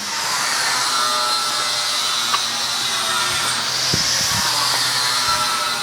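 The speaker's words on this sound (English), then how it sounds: "we're going to be cutting down to where our bumper currently is" A power tool runs in a continuous high whine while cutting the factory plastic bumper shell of a Lexus GX460, loud and close, with a few knocks and bumps partway through.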